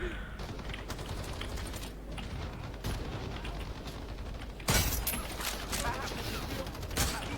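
Gunfire in the video game CrossFire, dense rapid bursts of shots and mechanical clatter rattling continuously at moderate level, with a sharper burst partway through.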